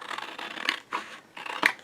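Scissors snipping through a paper print for a craft project, a few separate close crisp cuts with short pauses between them, alone and fairly quiet.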